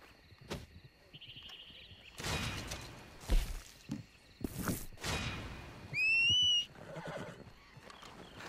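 A horse whinnies in the open-world western game Red Dead Redemption 2. One clear, loud neigh rises over scattered game thumps and clatter, with no talk in between.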